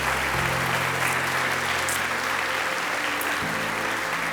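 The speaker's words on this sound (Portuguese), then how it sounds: "Pode aplaudir a Jesus." Congregation applauding during a church sermon, a dense continuous wash of clapping that holds steady at moderate loudness, with a low hum underneath.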